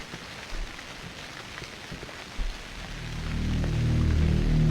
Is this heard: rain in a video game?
yes